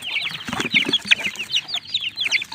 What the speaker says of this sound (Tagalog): nabigyan po natin ang patuka at mga sisiw